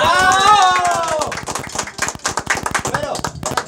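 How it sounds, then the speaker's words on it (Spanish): Applause for a father at a serenade gathering, a raised voice ringing out first, then a small crowd clapping in quick, uneven close bursts with talk mixed in. "los aplausos para él"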